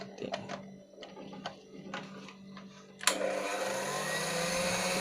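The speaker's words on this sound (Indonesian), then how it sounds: "pakai blender itu" An electric kitchen blender starts up while risol filling is being made, a sudden loud steady whirring motor after a few scattered clicks and taps, running on alone without talk.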